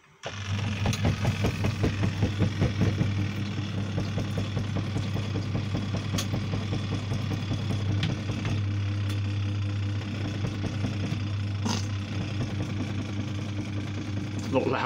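A mini washing machine spins on a hard bathroom floor in a motorhome, making a steady low mechanical hum with a rapid rhythmic rattle, close and continuous, while a person talks over it.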